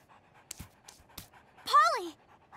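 A cartoon puppy pants in a quick burst of breathy huffs, preceded by a few sharp clicks and thumps and followed by a rising whine, fairly close and loud.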